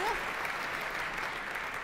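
An audience at the Paris Opera competition finals applauds a prizewinner, with dense, even clapping throughout a brief stretch and a faint voice briefly heard at the start.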